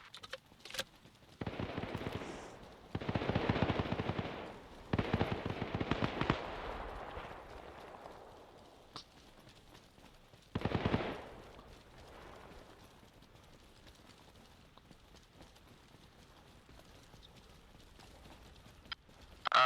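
Gunfire in a military video game battle, with dense bursts of automatic fire in a few clusters early on, then a single loud burst, trailing into quieter distant battle ambience.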